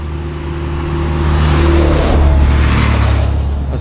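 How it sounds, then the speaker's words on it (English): A garbage collection lorry rumbles past on a Nairobi street, its low engine drone swelling as it draws near and holding steady and loud before easing slightly, with no one speaking. "It's a lorry coming here."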